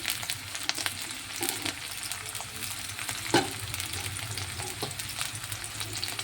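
Green chillies and onion frying in hot oil, a dense continuous sizzle and crackle close up, with occasional scrapes and knocks of a spatula stirring the pan, no voices.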